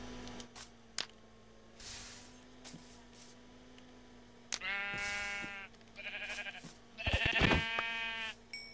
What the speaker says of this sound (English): there's a sheep over here